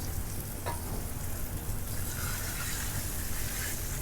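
A fillet sizzles steadily in a hot pan, a soft continuous frying hiss with faint crackles, heard close and alone without talk.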